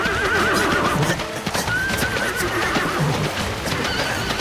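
Horses neigh and whinny repeatedly amid clattering hooves and commotion in heavy rain, fairly close and loud.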